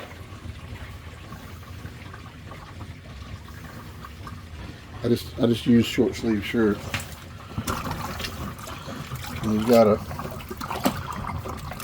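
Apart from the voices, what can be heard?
RV washing machine draining water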